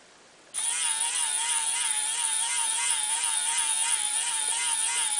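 Small DC motor on a TB6612 motor driver for an RC tractor, starting suddenly and running with a steady high buzzing whir close by, with no talking.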